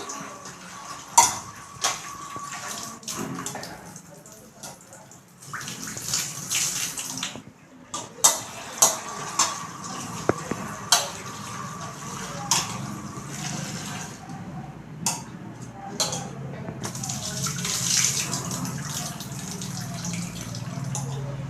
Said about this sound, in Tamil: இதை வந்து கழுவி சுத்தப்படுத்திக்கலாம்